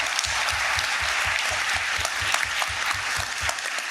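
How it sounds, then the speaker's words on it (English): An audience at a university commencement ceremony applauds a PhD student award winner, steady close clapping with a few louder individual claps standing out, continuous throughout. "Please join me in giving him a round of applause."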